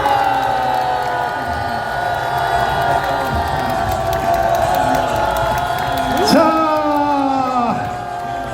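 A large crowd at an outdoor patriotic political rally cheers and whoops continuously in a standing ovation, loud and dense, with shouting voices rising near the end.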